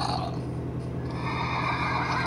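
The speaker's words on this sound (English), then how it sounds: "Oh, it's a horse." A horse in the Minecraft video game gives a short whinny over a steady, noisy game background, with no talk.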